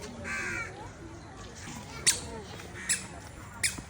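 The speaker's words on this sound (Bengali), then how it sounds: "ওই যে আকাশে পাখি" A crow caws three times at Rangpur zoo, giving short, sharp outdoor calls spaced about a second apart over a low wash of background chatter and ambient noise.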